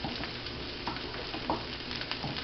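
Shrimp noodle stir-fry pasta is being tossed in oil in a hot pan, giving a steady close sizzle with a few soft stirring clatters over a short stretch.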